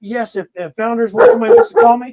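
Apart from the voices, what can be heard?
dog barking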